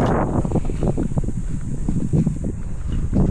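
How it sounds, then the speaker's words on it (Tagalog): Strong wind gusting steadily against a microphone outdoors during roof work on a new thatched hut, a continuous loud low rumble with buffeting, no other sounds standing out. "Malakas ang hangin eh."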